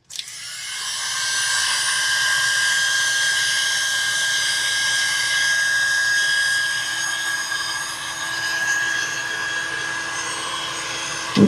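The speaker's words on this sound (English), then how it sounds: "I'm just going to use my heat gun around in the bottom." A heat gun blows steadily over poured resin art, a loud close whooshing hum with a high whine that runs continuously for about ten seconds before clicking off.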